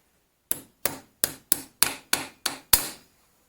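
Hammer tapping a snap ring into place in a Land Rover steering box: eight sharp metallic taps, close and clear, evenly spaced with the last one a bit harder.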